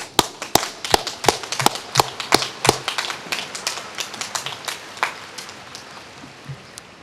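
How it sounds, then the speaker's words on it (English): Graduates at a Harvard Law School commencement applaud their families, a crisp burst of many hands clapping that starts with sharp distinct claps and thins to scattered, fading claps. "it is we who should be applauding you"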